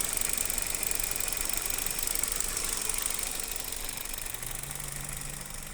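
A 2016 Kia Rio with a 1.6 engine and automatic gearbox idles at close range, a steady even hum with faint rattle that settles slightly lower near the end.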